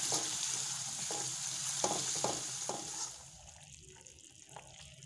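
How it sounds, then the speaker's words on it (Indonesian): Chicken opor cooking in a pan: a steady sizzle and bubbling hiss, with a few soft scraping stirs in the first three seconds before the sizzle quiets, no talk. "Sesekali diaduk ya, teman-teman, biar ayamnya matang merata."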